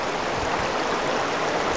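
The American River rushes steadily where Shirttail Creek enters near Yankee Jims, a broad, continuous hiss of flowing water, close and even, with no voices.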